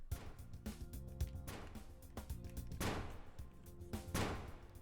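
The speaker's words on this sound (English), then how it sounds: "you will be able to notice the gunshot has a lot more reverb now" Gunshots in a Unity game scene with a reverb zone enabled fire in irregular bursts, several sharp loud cracks, each trailing off in a long echoing tail over a low background.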